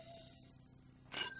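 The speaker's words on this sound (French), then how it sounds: "En entendant la sonnette de la bicyclette de Blanche-Barbe" A bicycle bell rings once, a short bright chime that comes in suddenly at the end after a quiet stretch. The ring is clear and close.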